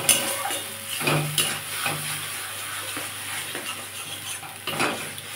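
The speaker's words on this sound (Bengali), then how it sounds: "শুধু এবার ভাজতে হবে।" Ground kalmi greens paste frying in a pan, a soft continuous sizzle with occasional stirring scrapes and utensil clinks, close and fairly quiet, with no one speaking.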